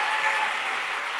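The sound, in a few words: audience applause in auditorium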